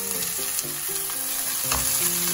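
Cooked rice is stirred into vegetables frying in a pan over a high flame, giving a constant loud sizzle with spatula scrapes and knocks, close and without speech.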